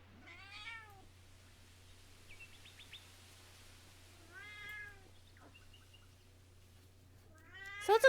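A hungry cat meows loudly several times indoors, with spaced, insistent calls separated by quiet pauses and a low steady hum in the background.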